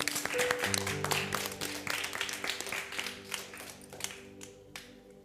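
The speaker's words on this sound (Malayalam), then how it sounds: "ഏഞ്ചൽ മരിക്ക് നല്ലൊരു ക്ലാപ്പ് കൊടുത്തേ" An audience claps for a child singer named Angel Maria, a fairly faint, brief patter of scattered hands from a group that thins out toward the end, with music playing underneath.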